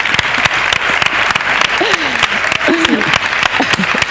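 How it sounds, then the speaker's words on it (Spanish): A crowd claps loudly and continuously, with scattered voices calling out over the applause. "Se aplaude."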